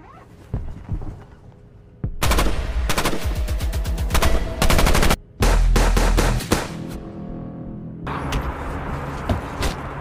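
Rapid bursts of loud automatic gunfire, several volleys separated by brief pauses, with scattered thuds and mechanical clatter between.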